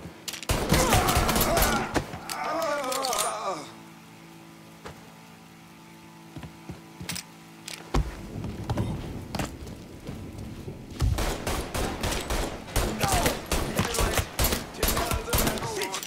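Shotgun blasts and rapid gunfire in the video game Mafia 3 come in dense, loud bursts at the start and again near the end, with a quieter stretch of scattered shots between.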